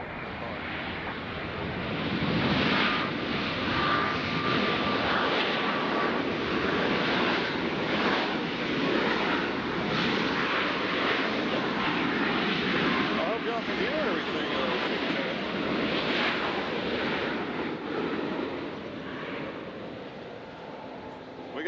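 A Southwest Airlines jet arriving from Houston at Nashville airport gives off a broad, sustained roar that swells and stays loud across the whole stretch, with wind buffeting the microphone.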